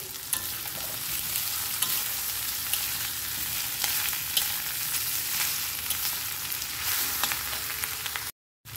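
Mustard seeds and grated coconut fry in hot oil, giving a dense, even sizzle with scattered crackles and pops that holds for several seconds before a brief drop to silence near the end.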